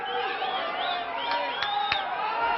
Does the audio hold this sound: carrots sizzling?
no